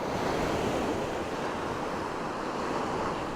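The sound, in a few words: ocean waves on a winter beach in Australia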